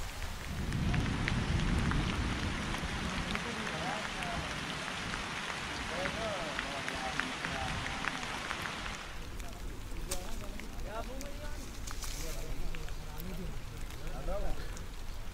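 Steady rain pours in Taif, a dense constant hiss of drops on surfaces that eases somewhat partway through, with faint scattered sounds beneath.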